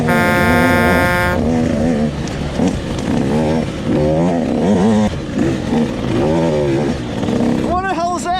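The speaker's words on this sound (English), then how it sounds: "I got old Sean blowing the horn behind me." Car horns honking in the racing video game Croom, heard over loud engine noise and someone talking, with a burst of rising horn-like tones near the end.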